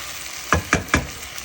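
A spoon stirs stuffed eggplant curry in a frying pan, giving three quick, close scraping strokes over a soft sizzle.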